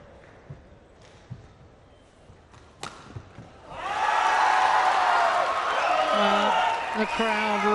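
Home crowd at a 2015 India Open badminton quarterfinal surges into loud, sustained cheering and shouting after a few seconds of quiet court sounds and shuttle hits, roaring on for several seconds.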